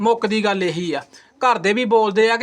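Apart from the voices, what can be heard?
No distinct noise like a dog, phone or traffic.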